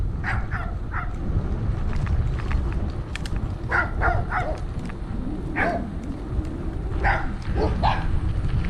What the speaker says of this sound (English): Some little dogs in the road.